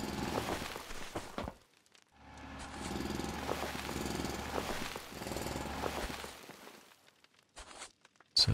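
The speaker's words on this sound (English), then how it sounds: "We need power over here, so I'm going to have to drill underneath this thing if I can get to it." Mechanical drilling in the video game Foundry, a steady grinding rumble that runs in two long bursts separated by short pauses, loud and close with no talking.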